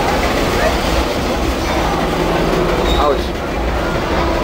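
The Stone Mountain Park train with its caboose rolls along the rails close by, a loud, dense rumble of wheels and clatter that holds steady throughout, with a voice briefly audible.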